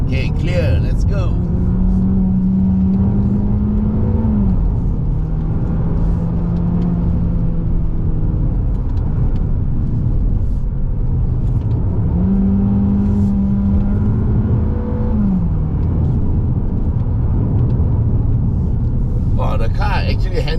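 A 2.0L Mazda 3 sedan climbs the Genting hill road, its engine droning steadily with two rising rev swells as gears change, a constant close cabin rumble under intermittent talk.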